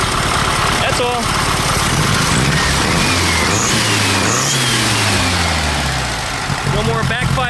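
A cold VW Super Beetle engine with no choke runs loud and steady up close, its idle wavering and rising in brief revs as it strains to warm up, with someone talking over it.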